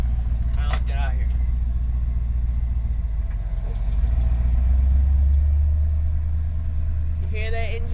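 A 1968 Ford F250 truck engine runs steadily with a low rumble throughout, heard from inside the cab while people talk over it.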